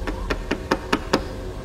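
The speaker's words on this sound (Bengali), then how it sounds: "তারপর দরজার গায়ে শব্দ উঠল" Knocking on a closed door, staged as a drama effect: six evenly spaced, firm knocks in quick succession, close and clear with no voices.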